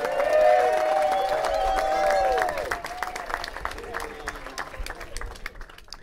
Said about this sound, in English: So a round of applause for AJ and Abigail.